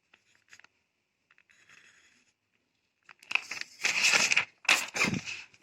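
Words being written during a Hindi lesson for a third-grade class: faint sparse scratches at first, then louder, close scratchy writing strokes in quick bursts toward the end.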